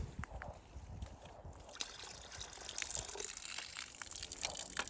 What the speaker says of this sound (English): I'm sure gonna put more water in your bucket.